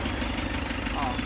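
Isuzu Trooper engine idling after sitting unstarted for more than five years and still showing an abnormality, a steady close rumble with a faint rhythmic knock throughout, under someone talking.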